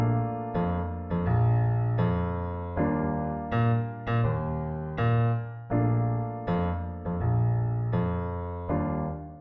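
Simplified bass line from a song played on piano with a melody over it, a laid-back syncopated groove of repeated low notes and chords, close and steady for several bars.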